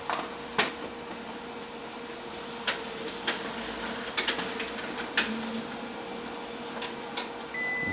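A Fuji Xerox CM215FW color printer hums steadily while sharp clicks and clacks recur irregularly as it feeds and prints a page nearby.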